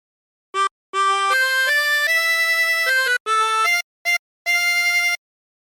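The melody of Home on the Range played on a chromatic harmonica, a sequence of clear sustained reedy notes with short gaps between phrases, close and alone.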